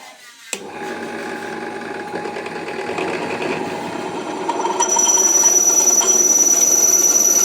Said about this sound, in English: The drill bit's a bit blunt.